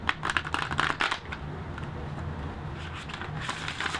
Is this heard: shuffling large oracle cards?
yes